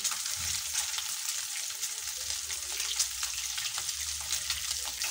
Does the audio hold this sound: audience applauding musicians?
no